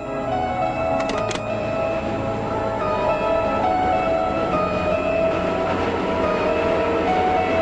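A train locomotive with wagons rolls along the rails, giving a loud, continuous close rumble with rhythmic clatter and a brief high metallic squeal early on, no voices.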